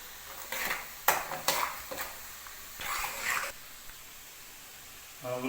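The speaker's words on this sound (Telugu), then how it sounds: "ఉల్లిపాయలు బాగా వేగిన దాకా ఉల్లిపాయలు ఫ్రై చేసుకోవాలి." Onions frying in a pan for chicken fry give a soft background sizzle, broken by several sharp scraping stirs of a spoon against the pan and a brief clatter near the end.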